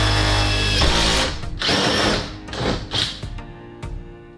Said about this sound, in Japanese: そしたら反対側も穴開けていきます。